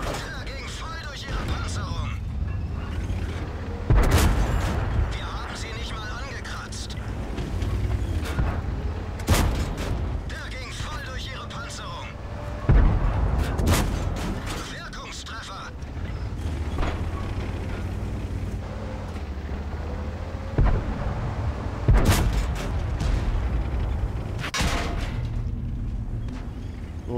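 Tank cannons in World of Tanks go off as several heavy booms scattered over about half a minute, under a steady game-engine rumble while someone talks throughout.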